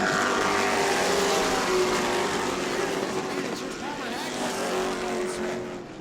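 Race cars circle the track at a New Smyrna Hoosier Series event, a broad, steady roar of engines heard from a distance while a commentator talks over it.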